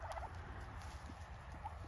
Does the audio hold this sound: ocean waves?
no